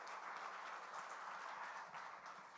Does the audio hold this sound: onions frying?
no